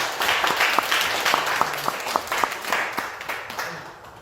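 Applause from the audience at a Heungsadan (Young Korean Academy) award ceremony, a steady wash of many hands with a few sharper claps standing out, fading off toward the end.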